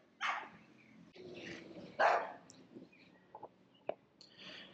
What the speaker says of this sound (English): They love barking up this tree because there's squirrels.